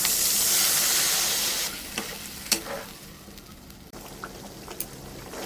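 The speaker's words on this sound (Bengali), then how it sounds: "আমি জল দিয়ে দিচ্ছি।" Water poured into a pan of hot egg and onion curry masala sets off a loud, steady sizzle and hiss, easing after about two seconds into quieter bubbling with a few sharp clicks of stirring.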